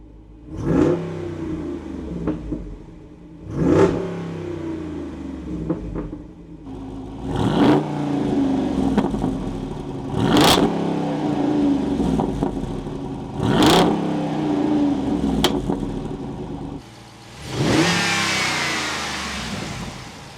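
The deep V8 engine of a 2024 Jeep Wrangler 392 revs repeatedly in strong bursts, each followed by crackling exhaust burbles and pops, ending with a louder roaring rev.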